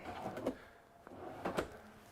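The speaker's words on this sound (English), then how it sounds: "Notice all of my drawers are soft closing." Soft-closing kitchen drawers in a 2022 Renegade Veracruz 30VRM motorhome ease shut, giving a couple of muted, cushioned thuds with light sliding rumble, close and quiet, with no talking.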